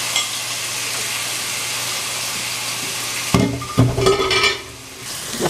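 Chicken with shawarma and gyros spices frying in a pre-heated pan: an even sizzle for several seconds, then a burst of louder clattering and stirring against the pan as the frying carries on.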